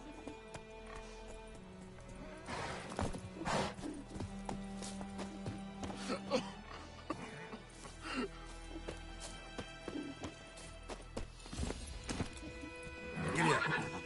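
In The Witcher 3: Wild Hunt, a horse neighs repeatedly amid hoof clip-clops and scattered game ambience, with several loud whinnies spread across the stretch and a strong one near the end.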